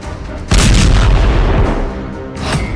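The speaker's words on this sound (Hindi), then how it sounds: "धमाके का तीसरा वीडियो" A heavy explosion bursts in with a deep, roaring boom and sustained rumble, fading slightly before a second blast swells near the end.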